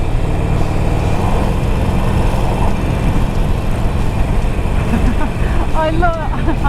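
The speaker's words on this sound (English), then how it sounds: "this is my first proper ride out on the 883R" A Harley-Davidson Sportster 883R is ridden on the road, its engine a constant, loud drone buried in heavy wind buffeting, with a brief voice near the end.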